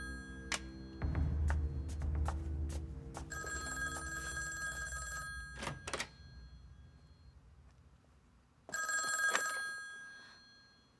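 A telephone rings at night and goes unanswered in a sleeping household. The ringing comes in two or three long bursts separated by quiet pauses, with a few sharp clicks early on, and no voices.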